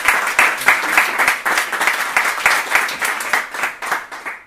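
A small group claps steadily for several seconds, individual hand claps distinct and fairly close, the applause thinning out toward the end.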